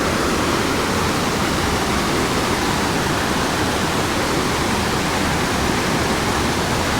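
Comet Falls roars as a steady, dense wash of rushing water along the hiking trail, loud and unbroken from start to finish with no voices heard.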